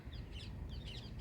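Birds calling in the early morning as they leave their nests, several short, harsh, repeated calls at moderate distance over a low rumbling background.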